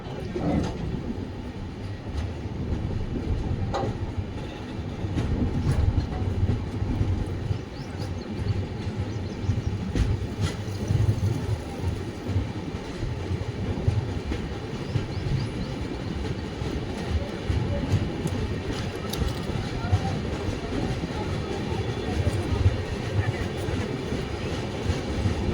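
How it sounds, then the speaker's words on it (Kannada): Train running on rails as it approaches Vikarabad Junction, a steady low rumble and clatter heard from onboard, continuous and fairly loud throughout. "ಇವಾಗ ನಮ್ಮ ಟ್ರೈನ್ ಎಂಟ್ರ್ ಆಗ್ತಿದೆ ವಿಕಾರಾಬಾದ್ ಜಂಕ್ಷನ್ಗೆ."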